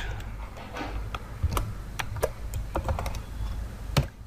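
Rapid bursts of typing on a computer keyboard, close and fairly quiet, with irregular clicks and a few louder key strikes, entering a new file name at a desk.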